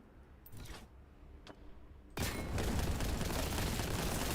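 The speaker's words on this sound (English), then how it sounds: "Grenades hurt." Grenade blasts in the shooter Warhammer 40,000: Boltgun, with a few faint pops early on, then a sudden loud burst of explosive noise that stays dense and rumbling to the end.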